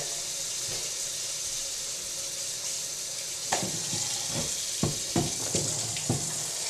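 Warm water runs and splashes steadily for a rescued turtle, a continuous hiss broken later by several sharp splashes and knocks near at hand.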